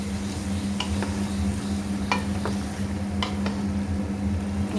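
Chicken is mixed with a little water in a bowl, with soft wet stirring and occasional light clicks over a constant low hum in the background.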